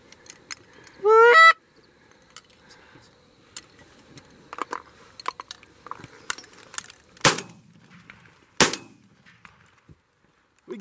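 During a goose hunt, a goose gives a single loud burst of honking calls near the start, followed by scattered sharp cracks of gunfire, with two especially loud shots later and quiet outdoor background between.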